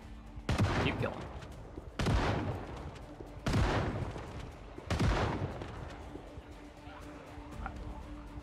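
Gunfire in a video game: four loud, evenly spaced single shots, each with a booming echoing tail, about every one and a half seconds, with no talk.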